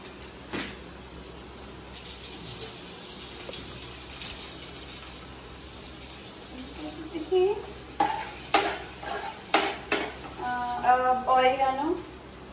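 Vegetables soften in a pan with chili flakes, oregano and black pepper, with a low sizzle and intermittent spoon scrapes that grow busier toward the end, where a voice talks over them.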